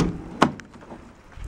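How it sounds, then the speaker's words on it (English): A back door opening with a short sharp latch click and clunk, followed by a faint rattle and soft movement indoors, with no speech. "I'm going to open the back door here."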